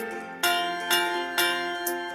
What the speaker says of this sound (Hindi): सुनो घंटी बजी स्कूल की